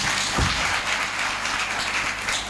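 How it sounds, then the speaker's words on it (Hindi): An audience claps during a Jain morning sermon, a broad, fairly steady wash of applause at moderate level with one sharp low thump near the start. "वे ताली बजाओ।"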